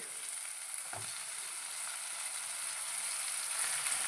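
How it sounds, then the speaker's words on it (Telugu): Raw chicken pieces fry in hot oil for a village-style chicken fry, giving a steady, close sizzle with crackling throughout and a brief thump as the pan is stirred; no talking. "ఇప్పుడు మనం కడిగి పెట్టుకున్నటువంటి చికెన్ని మనం యాడ్ చేసేసుకుందాం ఇందులోకి"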